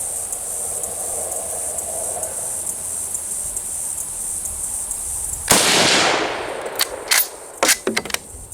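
Pistol shots from an M1916 Mauser, fired outdoors: after a stretch of steady background hiss, one sharp loud report rings out, followed by several quicker, fainter cracks and echoing bangs spaced irregularly toward the end.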